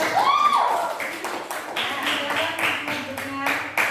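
A classroom group of pupils clap together in a quick run of sharp, fairly close claps lasting several seconds, with voices talking over them.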